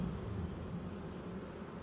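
A steady, low insect buzz from many honeybees in a frameless package hive drones on without pause, dense and continuous, with no voices over it.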